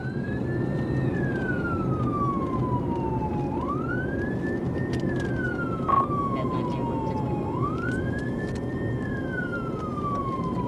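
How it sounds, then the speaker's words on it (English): Police car siren wailing in slow rising and falling sweeps during a traffic stop pursuit, steady and fairly close over road noise, with no voices. "When Trooper Harper activated his lights and sirens to initiate a traffic stop"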